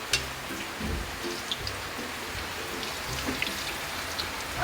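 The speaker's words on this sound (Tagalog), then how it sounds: "Everyday na ulan." Steady rain falls on surfaces outdoors as a continuous hiss with scattered drip and patter accents. It stays moderately loud throughout, with no voices.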